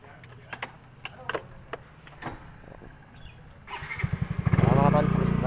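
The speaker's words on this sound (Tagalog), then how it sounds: "Ayan ang motor natin." A motorcycle starts up and idles with a steady, close putter, rising in level toward the end, following scattered clicks and handling noises.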